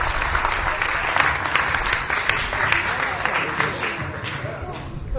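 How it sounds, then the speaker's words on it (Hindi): Loud, sustained applause from a Holi kavi sammelan audience at a comedy poetry gathering, dense clapping filling the whole stretch with steady intensity and slight surges. "एक बार जोरदार तालियां बजाइए, एक बार जोरदार तालियां"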